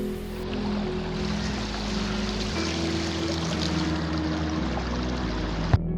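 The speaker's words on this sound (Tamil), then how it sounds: "அப்படியே நம்ம சைடில் என்னமோ தண்ணி போடுற சவுண்டு கேட்டுச்சுங்க." Water flowing through a small canal beside Vaigai Dam in Theni, with water released from open shutters nearby; a steady rushing wash with a low hum underneath, continuous throughout, and a brief knock near the end.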